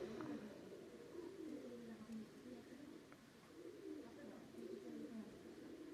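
Domestic pigeons coo in a loft, with soft repeated rolling coos rising and falling at a moderate distance, fairly faint, and someone speaking quietly at times over a low background hiss.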